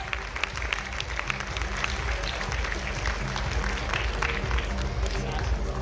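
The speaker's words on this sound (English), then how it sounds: "Children, please give a huge round of applause to all the honorees." A crowd of schoolchildren claps steadily in sustained applause for honorees at a junior school investiture ceremony, with a low rhythmic music or murmur underneath throughout.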